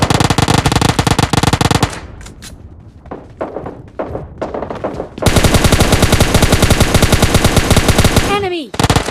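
Rapid automatic gunfire in PUBG Mobile Lite, loud and dense bursts at the start, a stretch of scattered single shots and thuds, then another long sustained burst of fire near the end.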